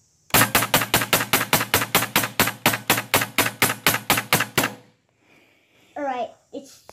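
A Huben K1 high-power air rifle fires slugs in a fast, even string of about twenty loud, sharp cracks, close by, then a short pause before someone speaks briefly.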